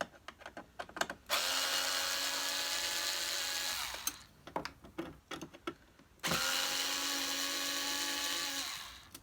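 Power screwdriver backing screws out of a 1982 Moulinex Major upright vacuum, two long steady whirring runs of several seconds each, separated by short clicks and handling noises, close and alone.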